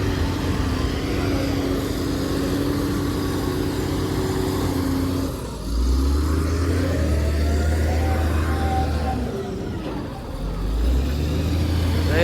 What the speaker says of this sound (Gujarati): ભાઈ લોડર આવ્યું છે ગજબનું પણ જો તમે કેટલું લોડર મોટું છે